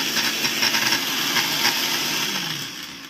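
Braun JB 3060 blender running at its first speed gives a loud whirring motor buzz with a slight wobble, winding down near the end.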